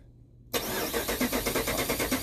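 A car engine cranks with a rapid, rhythmic starter churn that bursts in abruptly after a quiet lead-in and holds loud and steady, heard during an alternator voltage drop test.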